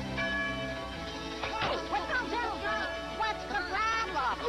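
A bell rings in a Smurfs cartoon, struck repeatedly with ringing tones that hang on, while cartoon voices and other sounds play over it.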